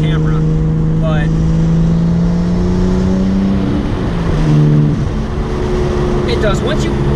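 A Nissan R32 GTS-T fitted with an RB25 turbo pulls steadily, its engine note climbing through the gears with a shift partway through. The drone is loud, heard from inside the car, and someone talks over it.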